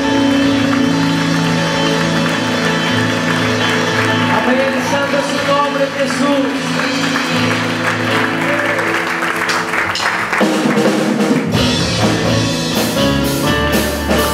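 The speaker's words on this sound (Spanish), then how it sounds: "Ese aplauso fuerte al Rey de Reyes" A church congregation applauds loudly and continuously in praise during a worship service, the clapping blending with ongoing music while a voice speaks over it.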